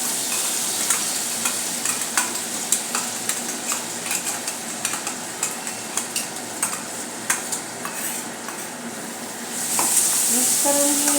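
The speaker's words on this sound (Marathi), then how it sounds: "मिक्स करून घेऊया आणि चांगली त्याला लो फ्लेमवर चांगले भाजून घेऊया." A coarse ground spice mix is stirred and roasted in a pan over a low flame for rasam vada. A steady soft sizzle runs throughout, with regular scraping taps of the spoon against the pan close by and no talking.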